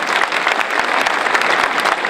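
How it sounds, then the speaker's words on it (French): Audience applause at a municipal New Year's greetings ceremony, a dense burst of many hands clapping at moderate distance, steady and continuous throughout the short stretch. "vous pouvez les applaudir, bien sûr."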